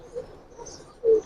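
Giribaz pigeons give faint, low coos nearby, with one clearer, louder coo near the end.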